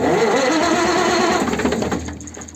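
A mobile diesel generator engine starts up, a continuous mid-pitched engine roar that runs loud and steady, then eases slightly toward the end, with no talking.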